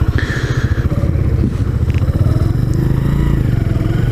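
A motorcycle engine idling and running close by, fitted with a recently changed starter, a loud steady throbbing beat with some mechanical clatter and no talk over it.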